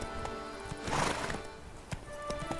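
A horse in The Witcher 3 clip-clops with a few scattered hoofbeats and lets out a clear whinny near the start, set against faint ambient game sound.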